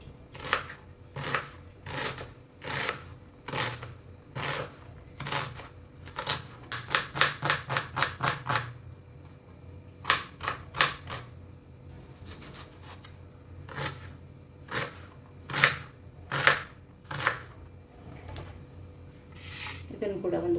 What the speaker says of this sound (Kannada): ಈರುಳ್ಳಿ ಕೂಡ ತುಂಬ ಚಿಕ್ಕದಾಗಿ ಸಣ್ಣಕ್ಕೆ ಹೆಚ್ಕೊಳ್ಳೋಣ.